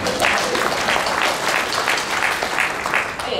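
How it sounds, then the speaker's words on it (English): An audience at a historians' presidential address applauds in a dense, sustained burst of clapping that fills the room evenly and stays loud throughout. "You could clap for yourself now if you would like"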